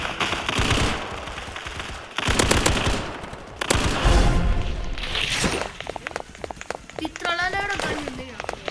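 Rapid automatic gunfire crackles in bursts in the Hypershoot video game, with booming shots and game effects layered over it and a person talking in between.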